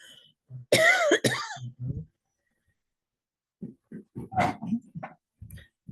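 A few harsh, throaty coughs from a speaker during a lecture burst out close up, followed after a pause by several short rough coughs and throat-clearing sounds.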